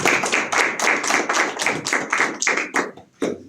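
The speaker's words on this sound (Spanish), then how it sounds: "Te recibimos un aplauso." An audience gives applause welcoming a speaker at an Amnesty International annual report event in Juliaca, a dense burst of clapping that holds for about three seconds and then dies away, with a few last claps.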